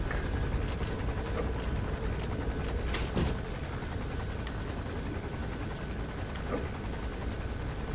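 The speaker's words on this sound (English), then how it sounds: "there's a helicopter in this daytime" A helicopter in the Metal Gear Solid 5: The Phantom Pain video game thrums loudly and continuously in daytime, a dense rotor roar over a broad rumble, with a few faint sharp cracks mixed in and no speech.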